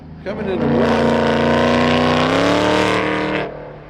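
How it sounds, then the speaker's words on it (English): A Ford Mustang race car roars at Gingerman Raceway, its loud, sustained engine note climbing steadily through the gears for about three seconds before it fades and passes. "And I hear the Mustang."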